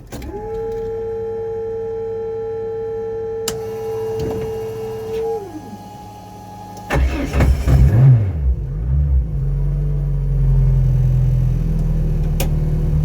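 A tuned Citroen Saxo VTS Turbo with over 330 bhp whirs through a rising starter-like tone, then its engine catches with a loud burst and settles into a deep, steady, rumbling idle close by.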